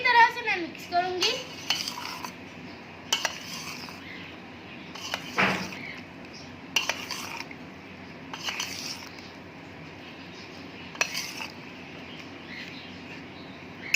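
Spoon clinking and scraping against a bowl while fried pakoras and potatoes are mixed into spiced yogurt for dahi pakoriyan, sparse intermittent knocks and scrapes at close range over a quiet background.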